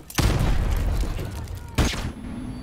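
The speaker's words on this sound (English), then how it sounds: "Just to bounce a grenade there." Two loud, close explosive booms from the Call of Duty 4 video game, likely a grenade blast, each with a broad rumbling decay, the second about a second and a half after the first.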